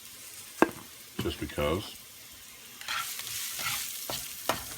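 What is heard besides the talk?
beef sizzling while being sauteed in a pan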